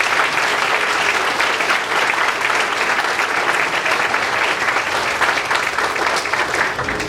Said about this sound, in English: So I want to make sure we give a very special round of applause to Miss Georgette and Miss Melissa and Casey